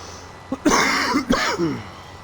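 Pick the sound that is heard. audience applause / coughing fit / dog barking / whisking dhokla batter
coughing fit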